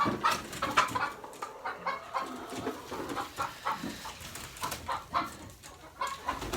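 A flock of chickens clucking and chattering continuously, overlapping soft calls with occasional louder squawks, fairly close with no voices.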